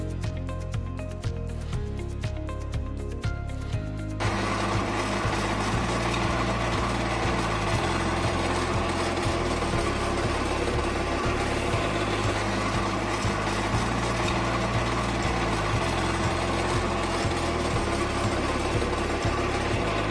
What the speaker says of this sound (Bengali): এখন আমরা দেখব আমাদের মেশিনটি মসৃণভাবে টানছে কিনা।